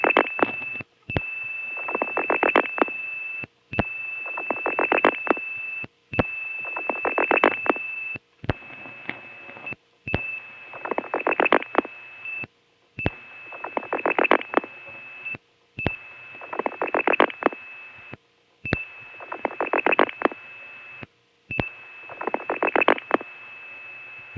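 Telephone tie-line signals from 1976: a steady tone broken by repeated clicking bursts of dialed pulses and short silent gaps, recurring every couple of seconds in a regular cycle, with no talk.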